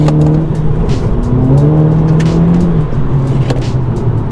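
A Mk5 Volkswagen Golf GTI Edition 30 drives with a loud, steady engine drone that rises and falls as it accelerates and changes gear, heard from inside the car.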